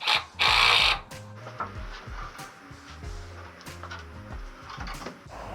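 A power drill driving a 3-inch screw into wood while building a lift, one loud high-pitched burst of the motor near the start, followed by quieter clunks, rattles and handling noises.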